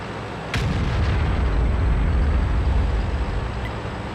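A heavy artillery blast from the video game World of Tanks booms out with a sharp crack, followed by a low, rumbling roar that holds steady for several seconds with no one talking.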